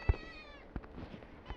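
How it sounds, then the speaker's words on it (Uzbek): A cat gives one short, quiet meow close by, with a few faint thumps and small rustles after it in an otherwise calm space. "Mushukcham."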